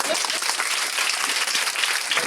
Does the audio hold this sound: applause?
yes